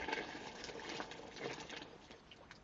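Boiled water poured from a kettle, a steady splashing, trickling stream with light gurgles, fairly close and moderately loud, with no voices.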